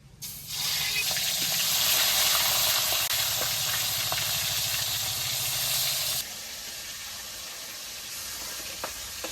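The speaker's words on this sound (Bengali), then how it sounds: "গরম হয়ে গেছে, গরম তেলে মাছটাকে একটু ছেড়ে দেবো।" Fish sizzling loudly as it is slipped into hot oil in a wok, a dense steady frying hiss that drops to a quieter sizzle partway through, with faint stirring clicks.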